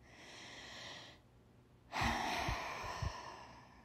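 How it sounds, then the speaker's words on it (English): A person takes a deep breath, first a soft inhale, then a short quiet pause, then a louder, airy breath out, close to the microphone. "Take a few deep breaths, right?"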